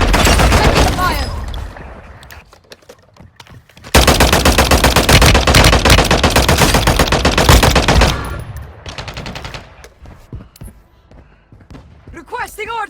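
Automatic gunfire in the mobile shooter Warzone Mobile, loud sustained bursts from about 0 to 1.5 s and 4 to 8 s, with quieter scattered shots and brief voice chatter between them.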